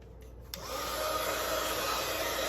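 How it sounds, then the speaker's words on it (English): A heat embossing tool clicks on and blows hot air, rising quickly into a steady, loud whooshing whir that carries on alone. "And I'm going to heat up my heat tool."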